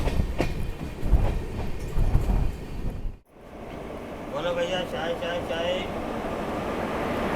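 Guntakal–Bodhan passenger train passing close alongside, a loud rumble and wheel clatter that cuts off abruptly, then a steadier, softer running noise with a high squeal.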